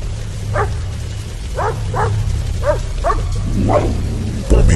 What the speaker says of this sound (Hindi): पॉमी के भौंकने और रोने की आवाजें सुमित को परेशान किए जा रही थी।